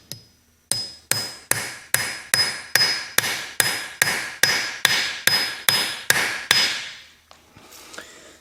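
Twelve evenly spaced, sharp metallic hammer strikes drive a 5mm bolt extractor into a bolt on a blown EJ25 engine, each ringing briefly before the next, followed by faint scraping.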